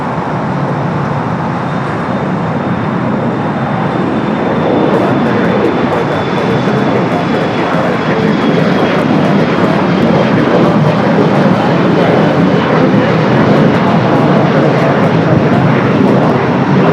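Jet airliner rolling down runway 24 left for takeoff at Los Angeles International Airport, a loud sustained engine roar that builds slightly and holds steady for the whole stretch.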